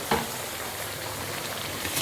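Cooked plantain is stirred in a hot pan, giving a soft continuous sizzle with faint scraping, close and fairly quiet, with no voices.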